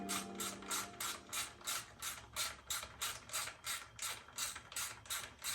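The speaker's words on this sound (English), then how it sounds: "Screwing down the airbox right now." A ratchet clicks steadily while screwing down the airbox of a Yamaha YZ450F motorcycle, about fifteen evenly spaced bursts of rapid pawl clicking, close and fairly quiet.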